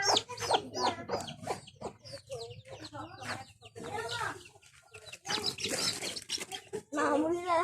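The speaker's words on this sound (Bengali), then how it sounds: "এখানে মুরগির বাচ্চা" Chicks at a rural village home in Bangladesh clucking and peeping in quick, repeated bursts close by, mixed with other lively nearby sounds throughout.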